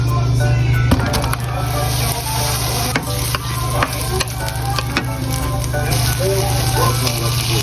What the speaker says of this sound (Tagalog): Nalagay ko na yung beef natin.